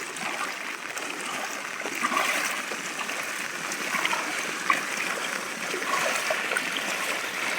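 Water runs steadily through a farm field channel in Wadale after rain damage, a continuous close trickling and splashing stream with no one talking.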